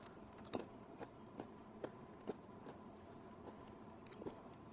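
Crunchy bites of crispy home-cooked chicken wings, a series of soft, sharp crackles spaced about half a second apart, close and fairly quiet over a faint room background.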